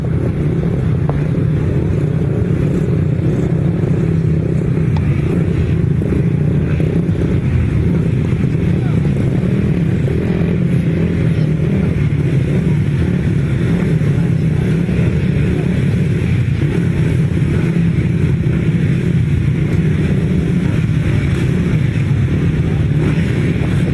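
250cc grasstrack racing motorcycles roar away together from the start line at a 2017 grasstrack meeting, a loud, steady, dense engine drone with wind buffeting, and a commentator speaks over it throughout.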